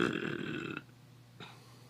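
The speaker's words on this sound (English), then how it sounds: "Hope you caught that belch." A single loud belch, close and drawn out for under a second, comes during a casual beer bottle share, followed by a brief fainter voiced tail.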